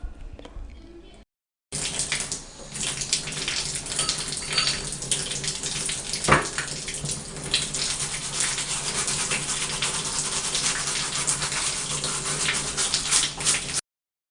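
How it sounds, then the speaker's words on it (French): Tap water runs steadily onto sandals being washed under a faucet, a loud continuous splashing rush that starts abruptly after a short quiet lead-in and keeps going to the end, with no talk over it. "Je lave donc les chaussures"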